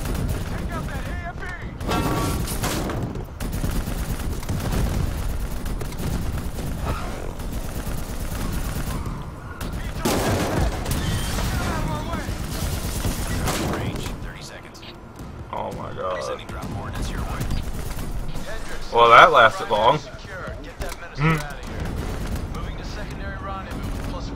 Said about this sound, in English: Just keep shooting, Luke.